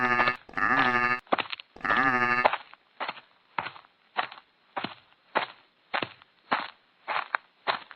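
A cartoon goat in a Hindi folk story bleats loudly twice, then gives a run of shorter, evenly spaced bleats, close and clear with no talk.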